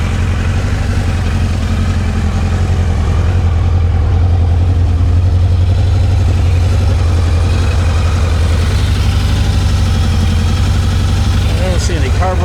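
A cheap motorcycle engine idles steadily on choke, a loud continuous low rumble running throughout with little change in pitch.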